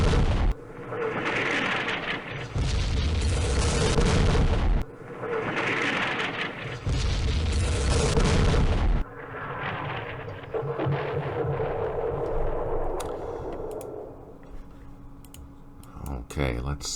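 Mortar and artillery fire in the Campaign Series Middle East wargame, a Yemen ridge battle, heard as long loud rumbling blasts repeating in heavy bursts, then a softer lingering rumble with faint clicks near the end.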